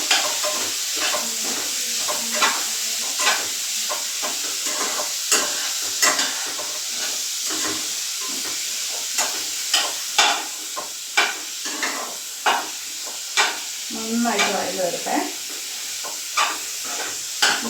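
Kerala beef curry stirred in a pan, with a steady sizzle and hiss of frying under repeated scraping strokes of a spoon against the pan, close and rhythmic with no talking.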